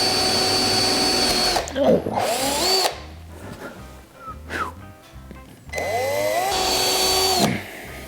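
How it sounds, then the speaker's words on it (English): Power drill boring holes for sliding barn door hardware, loud bursts of drilling around two seconds long at the start and end with quieter handling sounds between. "then I'll drill my holes and put this on the other side"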